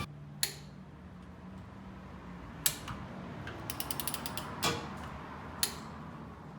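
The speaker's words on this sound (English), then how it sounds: "we're gonna spin our crank around because we want to get this damage on the pulley to the top side to get a good view of it" A hand ratchet turns the 21 mm crankshaft bolt on a Mazda ND Miata engine in a workshop. Sharp, isolated clicks are followed by a quick run of rapid pawl ticks, then more single clacks, all close up.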